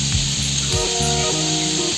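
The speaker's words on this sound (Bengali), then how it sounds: "মাছের মাথাগুলো ভাজা হয়ে গেছে" Katla fish heads fry in a pan with a loud, continuous sizzle and spitting crackle, and a few soft thumps and scrapes come through.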